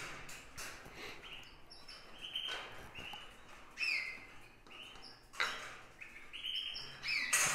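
Baby bird chicks, four young in a nest, chirp and peep in rapid high overlapping calls, close and lively with several louder squeaky bursts.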